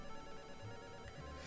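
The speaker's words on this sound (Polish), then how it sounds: "Telefon dzwoni." Telephone ringing in a game scene, a steady electronic ring tone sustained throughout, quiet and alone with no voices.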